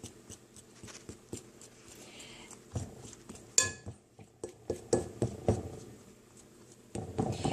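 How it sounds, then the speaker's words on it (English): A fork clinks and scrapes against a bowl while mixing almond cake icing, giving a run of short metallic taps and scrapes at close range that grow louder and more rhythmic toward the middle. "I like to use a fork to mix this, because it's just a lot easier."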